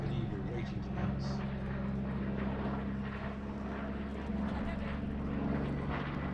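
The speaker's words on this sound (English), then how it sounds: "Where's he gone? Circling the airfield." A Yak-3 fighter circles the airfield at an airshow, its engine a steady, continuous drone throughout, with people talking over it.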